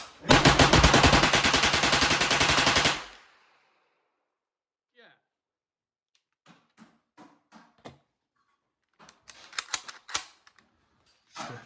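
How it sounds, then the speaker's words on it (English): A GSG MP40 clone fires a sustained full-auto burst while bump fired, a rapid even rattle of shots lasting about three seconds. Scattered mechanical clicks and handling noises follow, and people talk quietly afterward. "we're just having fun with the bump firing of this gun, which it's not meant for"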